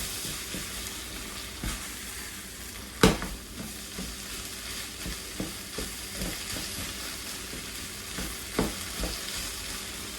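Flour being stirred into a sizzling pan of beef filling for shepherd's pie, a steady low fry with soft scraping strokes and a few sharp utensil knocks, close and alone without talk.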